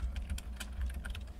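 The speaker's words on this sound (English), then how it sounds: "Let me type in Munich real quick" Quick bursts of typing on a computer keyboard, close and fairly quiet, with the keystrokes falling in an uneven rhythm over a low background hum.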